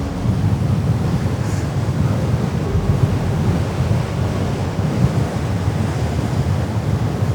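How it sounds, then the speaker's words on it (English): Large ocean waves surging on a rocky beach with a strong current, a continuous loud roar of surf mixed with heavy wind buffeting the microphone, no voices. "Look at the waves."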